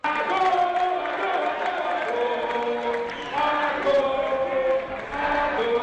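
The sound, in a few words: crowd cheering welcoming President Alassane Ouattara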